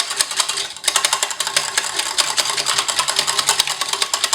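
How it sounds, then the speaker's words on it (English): A manual whisk beats liquid body wash in a bowl, producing a fast, steady rhythmic whirring and clicking that runs loud and continuous, close up. "I'll be using my whisk to mix this"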